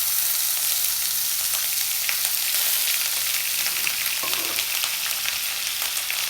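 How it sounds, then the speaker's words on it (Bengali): Ground onion paste hits hot oil in a frying pan while cooking an eggplant and rohu fish dish, giving a loud, steady hiss and crackle with occasional stirring scrapes, no voices. "আমি এখন পেঁয়াজ বাটাটা দিয়ে দিচ্ছি।"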